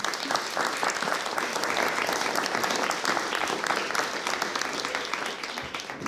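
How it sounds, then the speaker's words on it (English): An audience applauds a panel at a gun violence policy forum. The clapping is steady, full and sustained from many hands, with no break for the whole stretch. "Can you give our panel a round of applause?"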